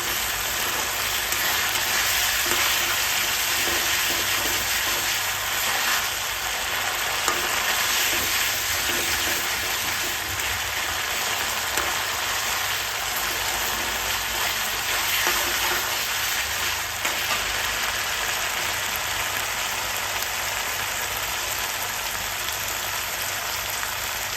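Spices frying in hot oil in a pan for a cauliflower curry, a steady dense sizzle with faint stirring scrapes running throughout without a break, close and fairly loud, no voices.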